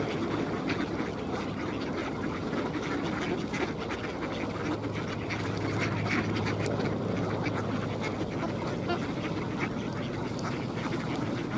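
A crowd of ducks on a pond in Tsarskoye Selo in winter, quacking busily and continuously outdoors as they are fed, many calls overlapping in an excited chorus with a low steady hum underneath.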